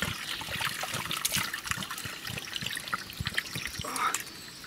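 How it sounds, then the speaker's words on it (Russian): Water gurgles and trickles into a dug-up metal object in wet ground, with air hissing and bubbling out in irregular spurts, close and fairly quiet. "О, вода пошла, зашипел,"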